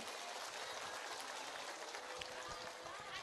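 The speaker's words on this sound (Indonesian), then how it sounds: "Tepuk tangan dulu buat kiai lokal" A congregation at a lively Independence Day religious sermon in Tegal gives applause for the local kiai. Soft, steady clapping sounds throughout, faint and somewhat distant.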